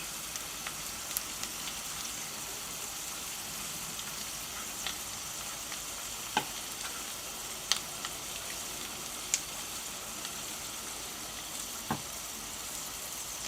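Cream poured into a thickened cognac sauce sizzles steadily in a pan, a faint continuous frying hiss with occasional soft ticks and pops, no voices.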